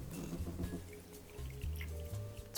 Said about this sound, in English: so we're going to cut one up and squeeze it.